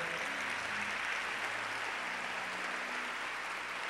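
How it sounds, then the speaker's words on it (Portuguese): Audience applause at a church congress session, a continuous dense clapping wash from a large crowd, steady and fairly loud throughout, with a low sustained musical tone underneath. "Pode aplaudir ao Senhor."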